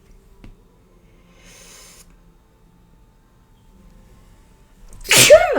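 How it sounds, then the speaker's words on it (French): A single loud, close sneeze bursts out at the end after near silence with a few faint rustles. "je vais éternuer 150 fois aujourd'hui"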